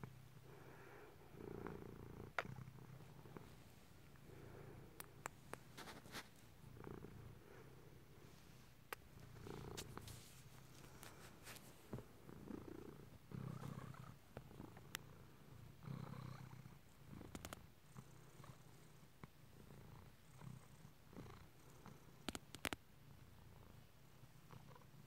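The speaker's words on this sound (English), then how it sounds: "I'm trying to get the right angle for you to hear the purring." A cat purrs softly up close at bedtime, the faint rhythmic rumble rising and falling with each breath, broken now and then by small clicks and rustles.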